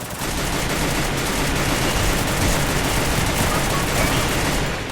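Sustained rapid automatic gunfire in the Free Fire video game, a dense continuous burst of shots filling the whole stretch at steady loudness, without pauses or talk.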